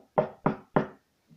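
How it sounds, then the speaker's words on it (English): Three firm, evenly spaced knocks land on a wooden door, close and dry with sharp attacks, followed by a soft fourth tap after a short pause. "he had a knock on his door"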